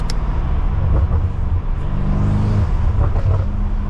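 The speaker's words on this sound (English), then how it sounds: "those are the factory burbles" Interior engine rumble of a BMW M5 F90 with downpipes and front mount intakes but no tune, a steady deep drone with a few faint crackling pops on the factory exhaust.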